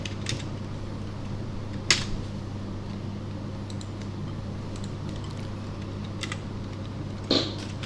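Soft clicking of a computer keyboard being typed on, faint keystrokes under a steady low hum, with a couple of louder isolated clicks.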